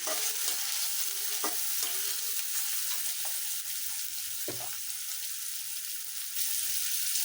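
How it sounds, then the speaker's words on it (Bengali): Rohu fish roe fries in a pan with a continuous oily sizzle, broken by a few sharp scraping stirs from a utensil, close and steady with no voices. "ডিমগুলো একটু ভাজা হয়েছে"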